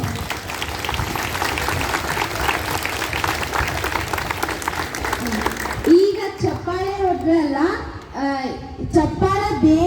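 A classroom of students claps loudly and steadily for several seconds, then the applause gives way to a child's and teacher's voices talking close by.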